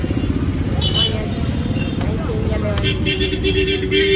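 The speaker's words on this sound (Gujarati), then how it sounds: "આપણી બાઈક" A Hero Splendor motorcycle idles and rumbles close by in a busy outdoor setting, a steady engine drone under people talking.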